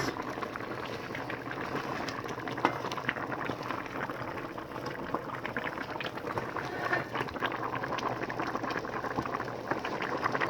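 Jute leaf sauce and couscous cook in pots, with a soft, continuous bubbling and simmering at low volume and no talk.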